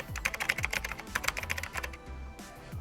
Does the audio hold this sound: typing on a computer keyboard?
yes